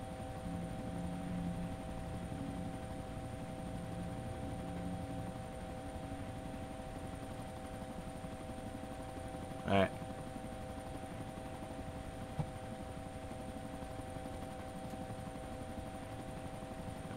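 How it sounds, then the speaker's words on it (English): A helicopter flies in the DayZ video game, its steady rotor and engine drone holding constant and close throughout, with a brief knock near the middle. "It's really cool being in the chopper"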